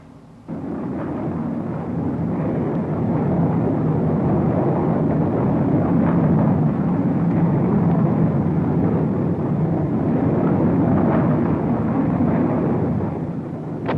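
A continuous deep roar of bombs released from strategic bombers bursting in a sustained rumbling barrage, loud and broad with rolling low-end booms and no break for the whole stretch.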